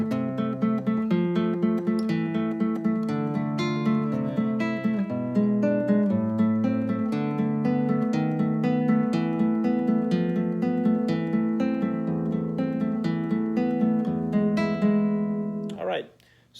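Classical guitar plays the opening four measures of Carcassi's Etude No. 7, Op. 60, slowly and steadily as sustained arpeggiated notes, close and clear, ending with a brief noise as the playing stops.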